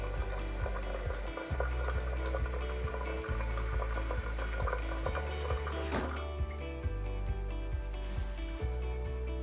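Water rushes steadily into a toilet tank through a newly fitted filler valve, a continuous close hiss and gurgle with a faint rhythmic ticking underneath, changing tone partway through as the level rises.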